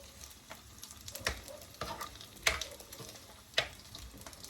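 Half-cooked food fries in a hot pan, giving a steady close sizzle broken by several sharp, loud pops and crackles at irregular intervals.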